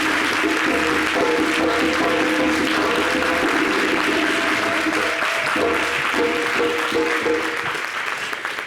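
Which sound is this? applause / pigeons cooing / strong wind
applause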